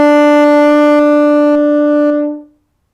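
A single sustained A on a horn in F, played with valves 1 and 2, rings out clean and steady for about two seconds before fading to silence, solo with no talk.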